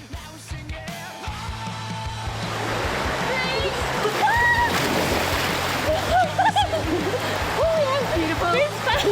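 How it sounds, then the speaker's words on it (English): Water of the Gregory River in Gulf Country rushes and splashes around people in the river, a continuous churning wash with sharper splashes, while voices call and chatter over it. "The cool waters of the Gregory River flow all year round."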